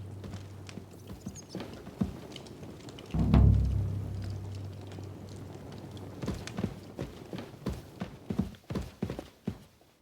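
Horse hooves clip-clop at a steady walking pace in Kingdom Come: Deliverance 2, a medieval game. The steps are moderately loud and near, with a brief louder thump early on and no voices.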